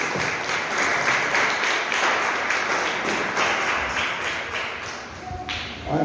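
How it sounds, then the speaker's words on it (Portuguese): A church congregation applauds, a dense, sustained patter of many hands clapping together at a steady loud level throughout, fading slightly near the end as a faint tone appears. "Uma salva de palmas para Deus."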